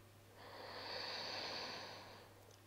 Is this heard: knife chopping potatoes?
no